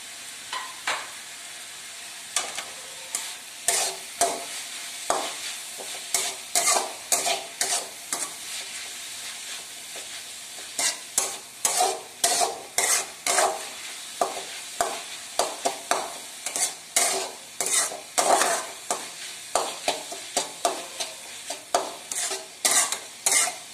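Chicken with chopped coconut pieces sizzling in a pan for a home-style Kerala chicken roast, a steady fry under repeated rhythmic scraping strokes of a spoon stirring, close and continuous.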